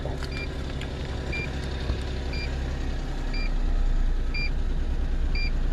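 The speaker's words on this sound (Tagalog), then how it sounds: "patayin natin ulit para kita nyo talaga yung function ng turbo timer" Car engine with an HKS turbo timer keeps idling steadily after switch-off, a continuous low rumble with a faint repeating electronic beep about once per second throughout.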